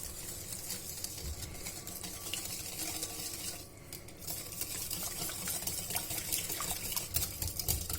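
Orange zest, juice, sugar and butter being stirred together in a bowl for an orange sponge cake, a steady scraping and clinking of a utensil against the dish, continuous and close, with faint background noise and no talk.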